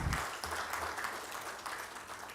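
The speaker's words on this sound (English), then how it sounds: "Another hand clap for Esther." Applause from an audience at a supplier development workshop, a steady dense patter of clapping held at moderate level throughout, with a brief louder burst at the very start.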